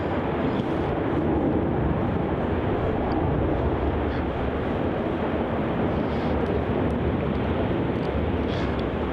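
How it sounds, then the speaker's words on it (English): A Jetstar airliner, flight JQ566 to Brisbane, departs Melbourne Airport with a continuous, loud, broad jet engine roar that holds steady throughout. "That departing there is Jetstar flight JQ566 heading off to Brisbane."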